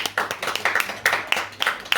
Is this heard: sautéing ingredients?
no